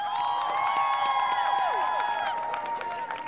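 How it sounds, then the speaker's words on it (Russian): Concert audience at a New Year's show in Chisinau applauding and cheering, a dense steady wash of clapping with crowd noise and a sustained musical tone running through it. "Аплодисменты."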